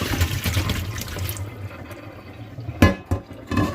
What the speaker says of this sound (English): I'm just gonna be draining them off now into the strainer.